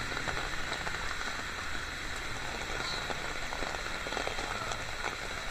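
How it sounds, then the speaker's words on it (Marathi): Heavy monsoon rain pours down on flooded streets in Mumbai, a dense, steady hiss and patter close by with no voices. "आणि पाऊसही त्या प्रमाणाने खूपच पडलेला आहे."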